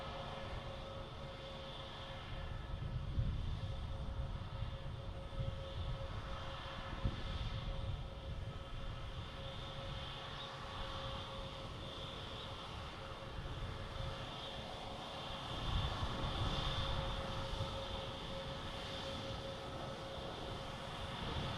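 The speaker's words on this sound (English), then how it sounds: "Next taking off is Delta in A321 heading to Atlanta." Delta Airbus A321 taking off at Boston Logan, a distant, sustained jet engine roar that swells gently and holds steady throughout.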